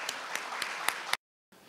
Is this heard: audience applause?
yes